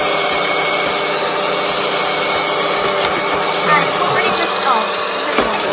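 Vileda M488a robotic vacuum cleaner running with its motor and brush spinning, a steady close whir that continues without a break.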